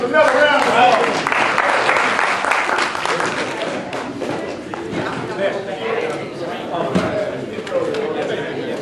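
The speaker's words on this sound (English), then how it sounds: "Let's give the panel members another round of applause" An audience at a symposium applauds the panel members, a dense, steady wash of clapping that starts strong and slowly thins, with voices talking over it throughout.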